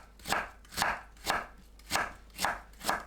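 A knife julienning radish into thin strips on a cutting board, six crisp evenly spaced chops at a steady rhythm, close and clear with no talking.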